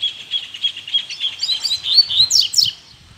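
A caged papa-capim seedeater sings, a bright rapid chirping song with trills and quick rising notes, loud and close, ending in a brief pause.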